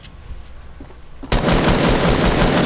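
Rapid automatic gunfire in Fortnite erupts abruptly after a quieter lead-in and rattles on loud and close as a continuous stream of shots.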